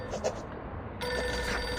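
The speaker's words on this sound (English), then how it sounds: "Ah, pick up the phone," A telephone in the video game Reverse:1999 starts a buzzing electronic ring partway through, after a short muffled stretch, and keeps ringing steadily to the end.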